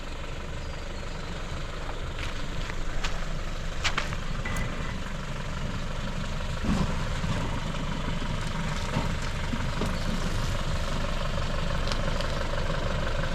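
4WD engine crawling along a rocky bush track, a steady low rumbling drone with occasional knocks and clunks from the rough ground, close and continuous.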